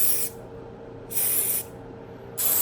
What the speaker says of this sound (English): I spray it down.